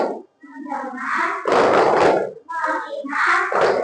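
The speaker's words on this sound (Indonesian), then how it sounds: "Tepuk fokus" Schoolchildren in a classroom perform a patterned focus clap, with bursts of hand claps mixed with loud group chanting voices in a quick, rhythmic call-and-response, close and lively.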